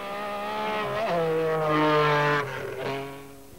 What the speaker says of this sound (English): An MG Metro.